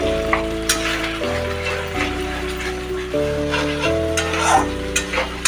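Turmeric and chili powder sautéing in oil for a Bengali niramish potol curry, giving a steady crackling sizzle with small stirring clicks, heard beneath continuous background music.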